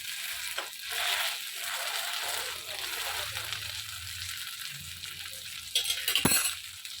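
Fish frying in a pan for a home-style fish fry, a soft steady sizzle and hiss throughout with a brief louder crackle and clatter near the end.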